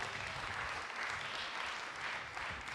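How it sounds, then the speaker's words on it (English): Audience applause at a Haiti tech summit, a continuous soft wash of many hands clapping, distant and faint. "Another round of applause for Ministry of Foreign Affairs"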